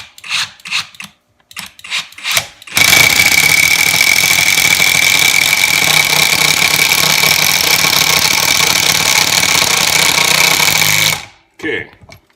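A Kimo 20V brushless impact driver sinks a 3 inch screw in one loud, continuous, rapid hammering burst lasting about eight seconds, with a few short knocks before it and a brief tail after.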